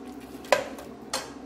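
A spoon stirs Nsala white soup in a cooking pot with chicken, making two short clinks against the metal, close and fairly clear.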